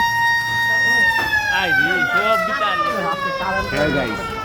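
A loud wailing fire engine siren sweeps steadily close by at a fire, its tone sliding downward, with a voice talking over it.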